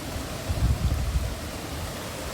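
Water rushing through the channel of an old water-powered flour mill (gharat), a steady low broadband roar that swells briefly in the first second and then holds steady, with no talk.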